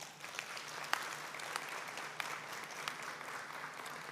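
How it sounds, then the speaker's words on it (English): A commencement crowd in a large hall claps steadily in response to a question about transferring to four-year schools; even, sustained applause, fairly distant and soft, with no talking over it. "By a round of applause, how many of you are planning to transfer to a four-year school in the fall?"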